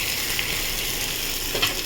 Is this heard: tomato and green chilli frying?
yes